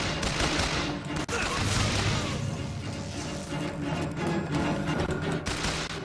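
Gunfire in BioShock Infinite, a dense stretch of rapid shots and booming blasts layered over continuous game noise, loud throughout with a brief sharp crack near the start.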